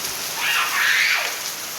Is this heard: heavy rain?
yes